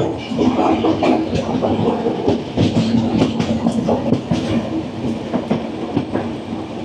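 The Kandari Express running fast on a single track from Howrah to Digha, loud rumbling with rhythmic clattering wheel clicks, heard from on board and steady throughout.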